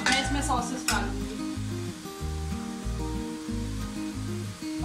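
Cooked spicy chicken pasta is stirred and mixed in a pan, with a spoon scraping and clattering in a regular rhythm over a soft sizzle, close by, without talk.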